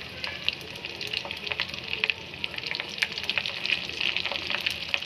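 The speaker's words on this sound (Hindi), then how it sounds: "इसमें मैंने जीरा डाल दिया है और इसमें लहसुन डाल देती हूँ" Cumin seeds and garlic fry in hot oil for a dal tadka, giving a steady crackling sizzle with sharp pops and spits throughout. The sound is close and there is no talk.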